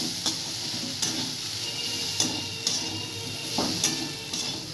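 Potatoes with green chilli and Kashmiri red chilli powder sizzle steadily in a pan, broken every second or so by sharp scraping clicks of a spatula stirring against the pan, close and alone.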